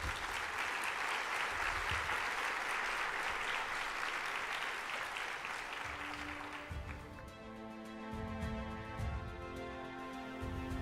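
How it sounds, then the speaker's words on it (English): A conference audience at Encuentro Amafore 2023 applauds after Harry Krensky's presentation, sustained dense clapping that fades after about seven seconds as music with steady tones rises. "the applause well deserved"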